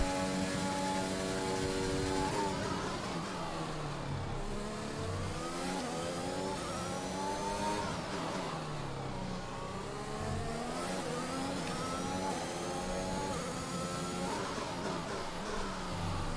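Formula 1 car engine in the F1 2021 racing game on the Azerbaijan street circuit, a loud continuous high-revving whine that climbs and drops through gear changes across the whole lap segment, with no talk.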